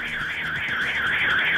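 A replayed recording of a property's security alarm sounds as a continuous warbling electronic siren that rises and falls steadily, moderately loud and alone.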